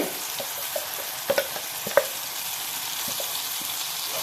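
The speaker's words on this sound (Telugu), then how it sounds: "ముందుగా ప్రిపేర్ చేసుకున్న మిశ్రమాన్ని ఇందులో వేసి వేయించుకోవాలండి" A spiced masala mixture for egg curry fries in hot oil in a pan, giving a continuous soft sizzle with a few quick taps and scrapes of a stirring spoon.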